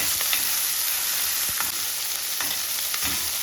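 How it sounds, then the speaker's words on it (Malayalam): Small onions (shallots) fry in a pan with a steady close sizzle and crackle, broken by a few soft stirring scrapes, no voices. "ചെറിയ ഉള്ളി നന്നായിട്ടൊന്ന് വാടണം"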